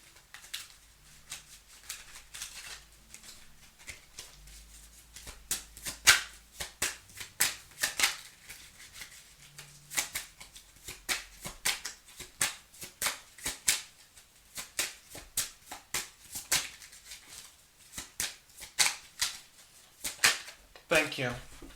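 Tarot cards are shuffled up close in a long run of quick riffling and slapping bursts, steady and crisp, with a faint low hum beneath.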